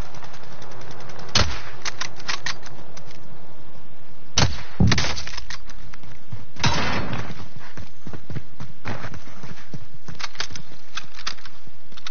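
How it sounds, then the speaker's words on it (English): Gunfire in the video game Call of Duty Warzone: loud, sharp shots and rapid bursts at irregular intervals, with clattering game effects between them. "I'm taking fire!"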